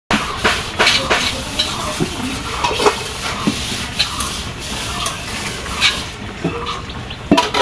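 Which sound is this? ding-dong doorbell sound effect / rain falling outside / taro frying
taro frying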